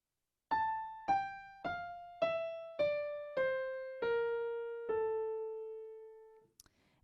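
Eight clear, quiet notes of an A Phrygian scale descend step by step in an even rhythm, each ringing and decaying before the next, with the last note held longer and a small click at the end.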